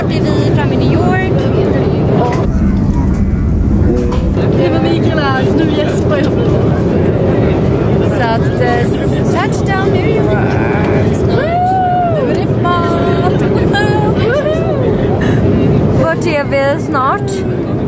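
Steady, loud cabin drone fills a passenger plane in flight toward New York, a constant engine rumble with people talking over it throughout.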